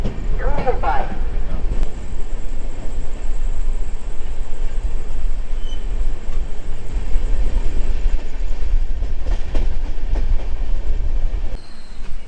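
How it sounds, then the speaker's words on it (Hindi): Coalfield Express pulling out of Asansol Junction, a steady loud rumble of rolling coaches with rhythmic wheel clatter that holds throughout, a few sharper metallic knocks, and background voices mixed in. "ट्रेन निकल रही है आसनसोल जंक्शन से।"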